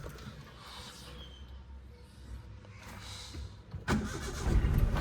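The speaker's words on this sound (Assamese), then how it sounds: "হাফ চেল্ফত ষ্টাৰ্ট হৈ গ'ল চব।" A used car's engine cranked by its self-starter, a quiet rumble and whirr that then catches into a louder, rougher running sound near the end.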